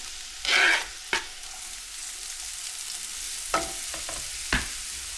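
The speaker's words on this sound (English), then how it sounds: "Put a little olive oil. I have onions, green peppers, mushrooms." Onions, green peppers and mushrooms fry in olive oil, a steady soft sizzle running under a few sharp clatters of stirring and utensil knocks, close by with no talk.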